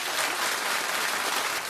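A studio talk-show audience breaks into loud, continuous clapping that fills the whole moment with no voices on top.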